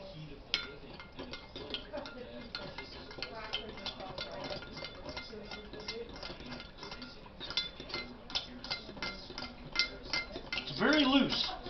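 Homemade French dressing is stirred in a container, with a utensil clinking and scraping repeatedly and fairly quietly while a voice murmurs now and then.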